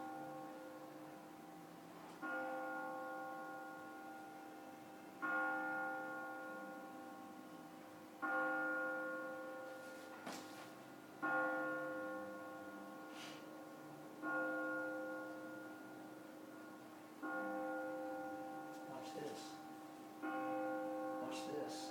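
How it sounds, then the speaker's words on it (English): Church bells strike the hour at nine o'clock, with evenly spaced resonant strokes roughly every three seconds, each ringing out and decaying before the next, heard from a distance. "I think this is 9 o'clock, so we should get 9 strokes."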